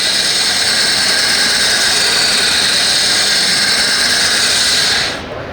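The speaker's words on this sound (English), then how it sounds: "By easing it around a bit, you're actually angling the drill." A power drill bores a hole in glass, a loud continuous high whine with a grinding hiss that holds steady and then winds down abruptly at the end, close and with no speech.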